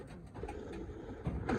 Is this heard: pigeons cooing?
yes